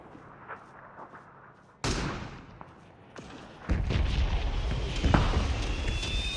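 Loud bursts of gunfire and explosions from a video game, with sharp booms at about 1.8 s and 3.7 s and then dense, sustained rattling fire to the end.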